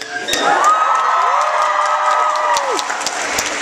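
A live concert crowd in London cheers and screams loudly, a sustained roar with high shrieks and whoops rising over it for several seconds.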